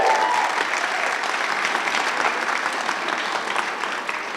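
Sustained audience applause at a press club award ceremony, a steady, moderately loud wash of many hands clapping from a crowd, even throughout.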